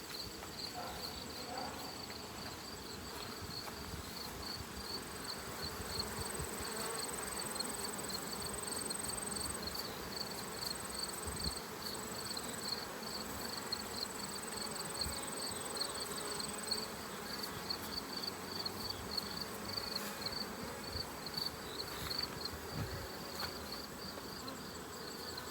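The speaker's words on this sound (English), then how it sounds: "we're going to brush the bees off on the other side of that hive" Honey bees swarm around an open hive during a fall honey harvest, making a dense, steady buzz that fills the whole stretch. Insects chirp faintly underneath, and there is no talk.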